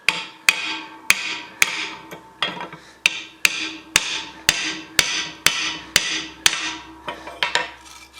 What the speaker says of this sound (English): Itty bitty little brass hammer.